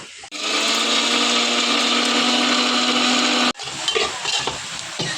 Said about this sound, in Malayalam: വറുത്തരച്ച തേങ്ങ നമുക്കിത് അരച്ചെടുക്കാം